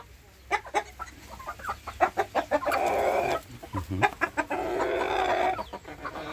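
Agitated Light Sussex laying hens cluck and squawk in quick bursts, some louder flurries of alarmed cackling rising and falling close by, with no one speaking.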